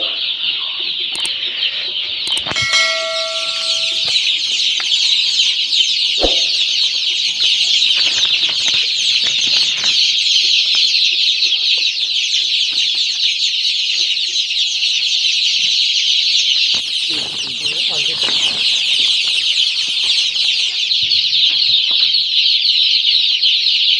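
Dense flock of chickens in a large poultry house holding about 600 birds, a continuous loud chorus of clucking and calls with a few sharper squawks and brief wing flaps.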